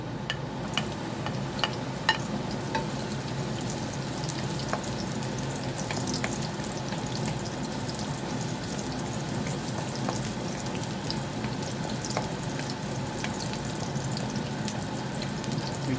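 Garlic frying in hot cooking oil, a steady dense sizzle with small crackles and pops throughout, close and continuous with a low hum beneath.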